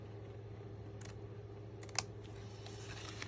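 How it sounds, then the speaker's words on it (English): Scissors snipping cardstock tabs for a Halloween hippo treat box, a few light quick cuts close by with one sharper snip standing out over a steady electrical hum, no talking. "So I'm going to cut straight down, and then I'm going to angle just like I did at the bottom."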